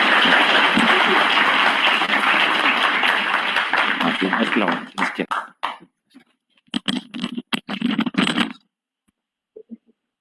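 A crowd at an academic lecture claps together in dense, sustained applause that thins out into scattered individual claps before stopping.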